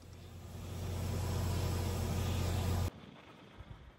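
Farm machinery engines drone steadily as a grain cart dumps wheat into a semi truck, a broad rumbling roar that swells and holds, then cuts off abruptly to quiet outdoor ambience.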